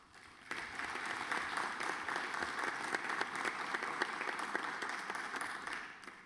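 Audience applause at a gathering of French local authorities, steady massed clapping that starts after a brief quiet moment and continues evenly at moderate distance.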